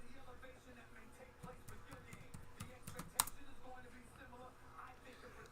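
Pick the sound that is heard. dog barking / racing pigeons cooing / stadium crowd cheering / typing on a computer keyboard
typing on a computer keyboard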